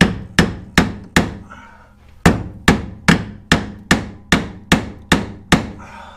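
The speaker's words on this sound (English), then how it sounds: "Use my small hammer." A small hammer strikes a seized scooter track rod end in sharp ringing metal blows, four quick hits, a pause, then eight more at an even pace, close by.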